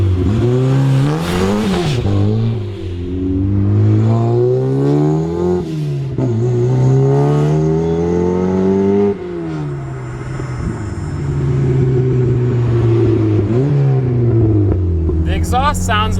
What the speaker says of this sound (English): Exhaust sounds about what I expected.